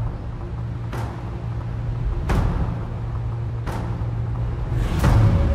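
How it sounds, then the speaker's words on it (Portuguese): A river sound effect laid into a film's audio mix: a steady, broad rushing wash of flowing water with a few brief swishing bursts, moderately loud and continuous with no talk. "Esse aqui é o barulho do rio"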